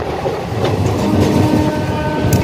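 The Haldia 22330 superfast express train runs along the track, a loud continuous rumble with rhythmic clickety-clack of wheels over rail joints, heard from close by without any voices.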